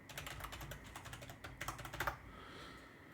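Quick clattering keystrokes on a computer keyboard entering a password, a steady run of close, soft clicks for about two seconds before stopping, with no talking.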